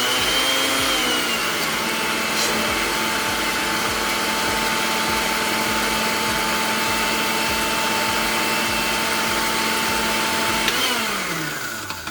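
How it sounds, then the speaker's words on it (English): A blender processing dates for energy bite snacks whirs loudly and continuously for about eleven seconds, then winds down as it is switched off. "make sure you don't open the blender lid when it's still going"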